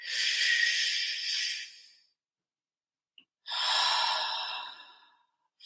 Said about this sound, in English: allow yourself to take a deep breath and really focus on filling your lungs all the way to the base of your lungs